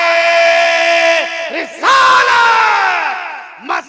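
A crowd at a religious gathering shouts slogans in unison in answer to a leader's call, a loud massed chant that swells, breaks off briefly, then surges again, with a short cry at the end.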